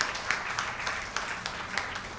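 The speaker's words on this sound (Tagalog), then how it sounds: "The best na palakpak para kay Jesus." Congregation applause in a church service, a steady wash of clapping at moderate distance with no clear break across the short stretch.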